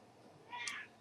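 A house cat gives one short, faint meow in a quiet room.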